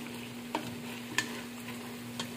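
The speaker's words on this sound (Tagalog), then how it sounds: "nilagay ko na yung baggy beans. And I will stir." Baguio beans and vegetables sizzling softly in a frying pan for a Mongolian barbeque, with a few faint stirring scrapes over a low steady hiss and hum.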